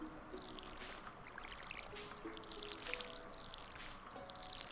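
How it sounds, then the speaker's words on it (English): Watering can pouring over potato crops in the Stardew Valley farming game, a continuous soft splashing pour with light trickling and game music tones underneath, steady throughout with no speech. "We'll water our plants first."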